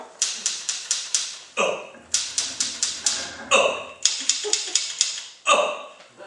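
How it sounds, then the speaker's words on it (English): A typewriter clacks in close, quick bursts of sharp keystrokes, with short pauses and a carriage-return clunk between runs, sounding alone in a room. "You hear the typewriter going?"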